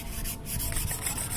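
Brisk close rubbing on a motorcycle front fork shock tube during cleaning, a short burst of repeated scrubbing strokes at moderate level, no voices.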